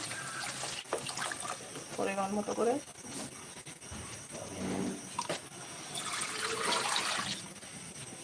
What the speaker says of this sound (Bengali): আমি এখানে পানি দিয়ে দিচ্ছি